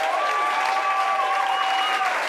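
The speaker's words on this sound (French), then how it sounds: "J'aimerais ça qu'on les applaudisse." A studio audience applauds the guest judges on a French-language talent show, a steady, even wash of clapping that holds for a couple of seconds without pause.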